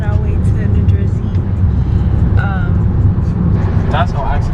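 Steady, loud road rumble fills the cabin of a car driving on wet roads toward New Jersey just after rain, with faint tonal whines and passing traffic swells and no talking.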